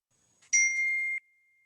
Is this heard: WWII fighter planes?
no